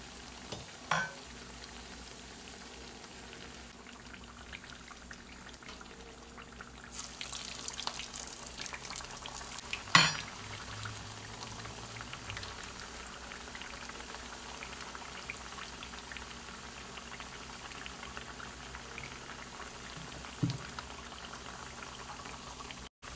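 A masa quesadilla with chorizo fries until golden, a soft, steady bubbling sizzle with a few louder knocks and clatters along the way, no talk.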